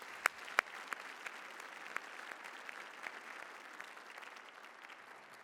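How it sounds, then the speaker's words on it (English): Audience applause at an awards ceremony, a steady wash of many hands clapping with a few sharp nearby claps standing out at the start, then gradually thinning. "Let's give them a round of applause."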